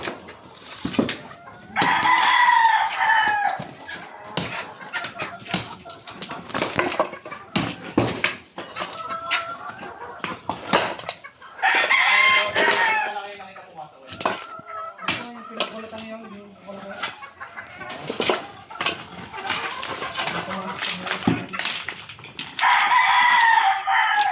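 Roosters crow repeatedly amid steady hen clucking nearby, with people talking intermittently in the background.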